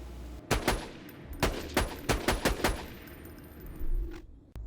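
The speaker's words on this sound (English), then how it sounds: "Next is the Ludia. Its special effect is that after a certain distance, the bullets will split into 3." The Lyuda sniper rifle from Borderlands 2 fires a rapid string of sharp, loud shots in uneven bursts, each crack followed by a short tail as the bullets split, ending in a brief lull with a low whoosh.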